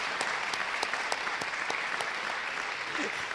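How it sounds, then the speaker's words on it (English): Audience applause at an evening event in a theatre, dense steady clapping from a seated crowd with distinct claps popping out, moderately loud and sustained. "Let's give another hand of applause for them."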